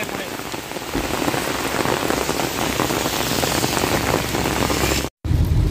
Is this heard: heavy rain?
yes